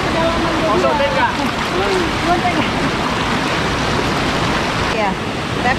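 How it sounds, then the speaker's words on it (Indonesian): A river with a waterfall at Desa Raja village roars in a steady, loud, broadband rush that fills the whole clip, with faint bird-like chirps above it. "Sungai air terjun."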